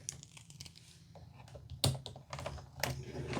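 A blade slicing through the cardboard packaging of a Good Smile Yukino Yukinoshita figure box, with scattered scraping and crinkling cuts over a low steady hum, one sharp loud snap near the middle.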